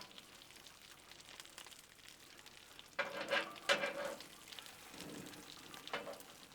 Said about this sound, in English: Grab some peppers and onions and just lay across here.